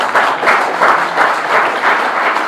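A crowd claps together in loud, sustained applause at a gathering, a thick, even wash of many hands close by with no break.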